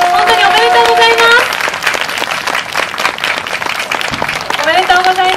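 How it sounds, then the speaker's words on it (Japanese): Audience applause for the winning pair at a revival gourmet food contest in Soma, a steady wash of clapping through the middle, with voices and speech over the start and end. "代表のお二人に大きな拍手をお願いします"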